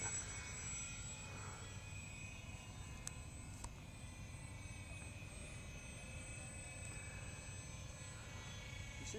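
Airfield Sky Trainer 182 model plane engine droning steadily in flight, a faint, distant continuous propeller hum that holds level throughout with no other clear sounds.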